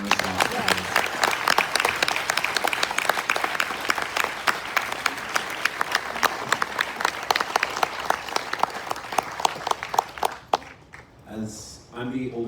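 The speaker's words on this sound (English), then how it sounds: "So let's give a big round of applause." An audience at a military appreciation gathering aboard the Carnival Vista applauds Cold War veterans with loud, dense, sustained clapping that fades near the end, leaving a few scattered claps.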